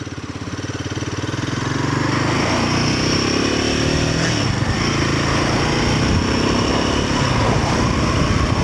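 Royal Enfield Himalayan 450 motorcycle being ridden, its engine building over the first couple of seconds into a loud, steady throbbing drone with wind rush, continuous and close.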